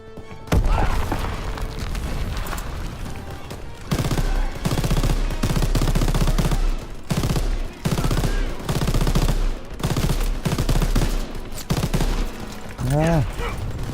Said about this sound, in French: Je vais à la mitrailleuse.